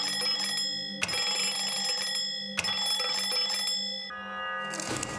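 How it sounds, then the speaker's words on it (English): Three ringing chimes from an elevator bell button in the puzzle game Lorelei and the Laser Eyes, each strike sharp and bright with a long sustained tonal decay, spaced about one and a half seconds apart. "if we press the bell 3 times"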